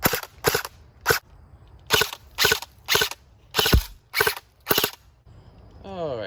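Cybergun FN M249 Para "Featherweight" airsoft gun firing nine sharp single shots at an uneven pace. Each shot is a loud, close, snappy crack. A brief mechanical whir follows the shots.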